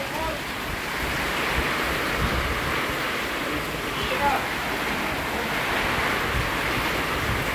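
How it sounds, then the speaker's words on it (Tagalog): Strong typhoon wind at night roars in a continuous, dense rush close to the microphone, with faint voices barely showing beneath it. "grabe lakas ng hangin."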